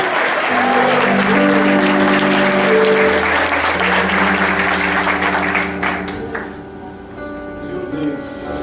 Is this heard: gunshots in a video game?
no